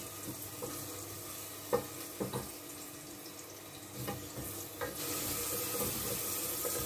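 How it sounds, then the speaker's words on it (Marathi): Chopped onion sautéing in hot oil with bay leaf and star anise in a pressure cooker, a soft steady sizzle broken by a few spoon scrapes and clinks, fairly quiet with no talking. "कांदा आपल्याला थोडा परतून घ्यायचा आहे, फार त्याचा काही कलर बदलावायचा नाही आहे, फक्त थोडा ट्रान्सपरंट झाला पाहिजे"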